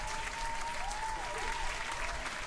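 Applause sound effect played during a livestream, a dense, even burst of crowd clapping at steady volume throughout, with a faint tonal whine running underneath.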